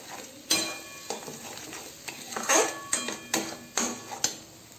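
A spice paste with black cumin fries in mustard oil with a little turmeric while a utensil stirs it, giving soft scrapes and occasional clinks over a low sizzle, close by and fairly quiet.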